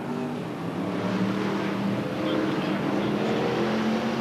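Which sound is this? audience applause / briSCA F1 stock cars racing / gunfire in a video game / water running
briSCA F1 stock cars racing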